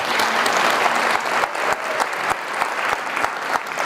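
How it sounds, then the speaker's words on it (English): Audience applause fills the room at a GM and Bedrock-supported breakfast event featuring Mark Reuss and Roger Penske: steady, dense clapping from a sizable crowd that holds throughout with a few sharper claps standing out. "So round of applause for them."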